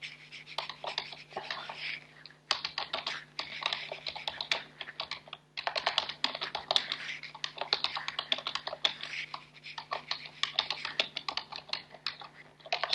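Rapid typing on a computer keyboard, close and steady, keystrokes clattering continuously for about thirteen seconds with a brief pause early on and no talking.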